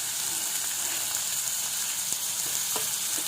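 Finely chopped onions fry in oil in a pan, giving a steady, close sizzle throughout with a few soft stirring clicks, no voices.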